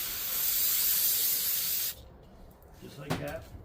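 Lucas semi-synthetic assembly lube on a Ford 460 engine is sprayed in one close, steady hiss lasting almost two seconds that stops abruptly, followed by quiet handling noise.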